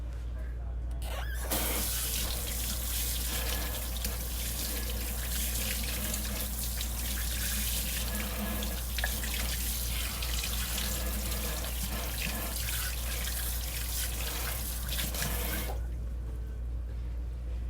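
Tap water runs steadily into a kitchen sink for hand washing, a continuous splashing flow that starts abruptly and stops near the end, loud and close with no talk.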